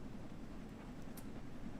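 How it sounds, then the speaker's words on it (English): An old diesel locomotive on the Peak Forest route in Train Sim World 3 works hard with a low, steady engine drone, faint and continuous across a brief moment. "Really working this old loco."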